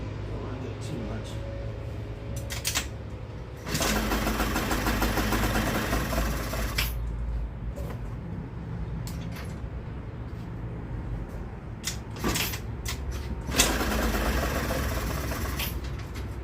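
A two-stroke Yerf Dog go-kart engine running close by with a buzzy, steady idle that surges louder twice as throttle is added, with a person talking briefly in between.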